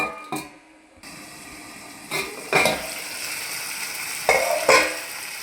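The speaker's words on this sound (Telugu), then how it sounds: "మూత పెట్టుకుని కొంచెం మగ్నిద్దాము" Pusa parigala curry cooks in a covered pan, giving a steady low simmering sizzle punctuated by a few brief metallic clanks and rattles from the pan and lid.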